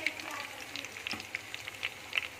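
Potatoes going into hot oil left over from frying eggplant, giving a faint, crackling sizzle with scattered pops and spatters at a low level.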